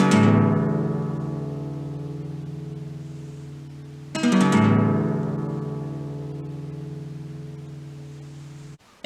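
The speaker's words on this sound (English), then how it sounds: "Here now, playing the Power Acoustik guitar." Two strummed chords on a six-string Power Acoustik acoustic guitar strung with a mix of metal and nylon strings, each ringing out clearly and slowly fading, played alone.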